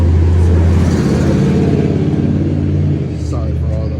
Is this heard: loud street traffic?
yes